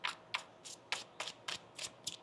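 Tarot cards shuffled by hand during a reading, eight quick papery riffling bursts in a steady rhythm, close and fairly soft, with no talking.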